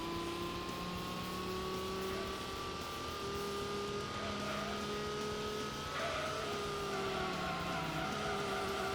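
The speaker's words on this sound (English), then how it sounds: "You have to keep letting off the throttle just to bring the car back around." Steady, droning whine of a race car engine in Gran Turismo, held and shifting pitch with throttle lifts through corners, continuous and up front.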